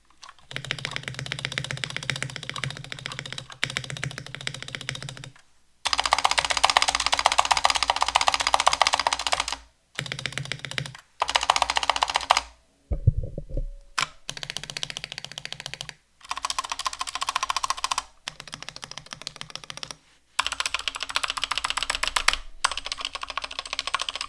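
Bursts of typing on a Bakeneko 65 mechanical keyboard, comparing lubed and unlubed stabilizers, with rattly stabilizer clacks, several separate runs of keystrokes broken by short pauses, close and fairly loud.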